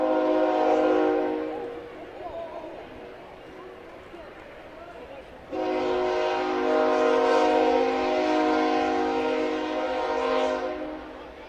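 A passing train blows a long, loud steady horn blast that swells and continues after a brief dip, heard at a college baseball game with broadcast commentary voices over it.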